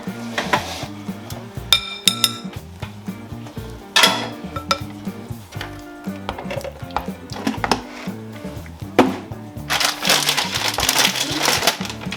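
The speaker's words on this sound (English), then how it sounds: "This is kind of hard to mix." A spoon works through thick, squishy cottage cheese in a bowl for a lower-carb lasagna, giving repeated clinks and scrapes against the dish over a steady, busy background, with louder clattering bursts toward the middle and end.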